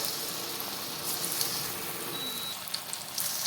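Green peas vada batter fries in hot oil in a kadai, giving a steady, close bubbling sizzle with small crackles and no voices.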